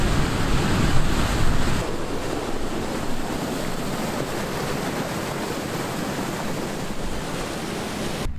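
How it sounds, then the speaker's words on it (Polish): A river waterfall roars as a continuous broadband rush of falling water, loud and close, with no talk. "Teraz zbliżamy się do wodospadu, jak słyszycie."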